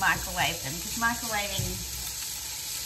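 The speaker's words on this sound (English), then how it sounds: "can hear that sizzling away now" Reheated, already-cooked food sizzles in a frying pan at home, a soft, steady hiss running under a person's nearby talking and continuing on its own after they stop.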